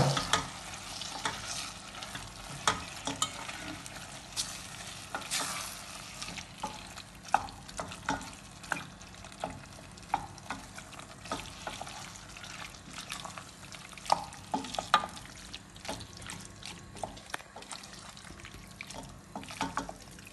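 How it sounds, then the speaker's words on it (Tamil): Cut potatoes sizzle in a pan over a low flame for vegetable patties, with steady frying hiss and frequent scraping stirs of a spoon against the pan, close and continuous with no voices. "நான் இப்போ இந்த வெட்டி வைத்த கிழங்கு போட போகிறேன்"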